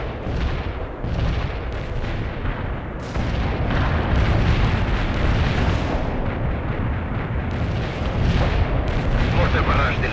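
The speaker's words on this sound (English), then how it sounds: "Mortar barrage delivered" Mortar barrage explosions in a video game, a dense, continuous rumble of booms and blasts rolling on for ten seconds, loud and close.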